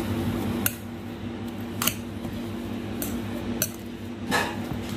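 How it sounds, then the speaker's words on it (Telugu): Boiled potatoes are mashed in a bowl for poha cutlets: a soft continuous background hum is punctuated by four sharp utensil knocks against the bowl, spaced roughly a second apart. "ఆలు వేసుకొని మెత్తగా స్మాష్ చేసుకోవాలి."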